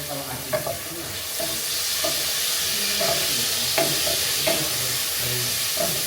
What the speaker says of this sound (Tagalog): magigisa lang tayo ng bawang at sibuyas muna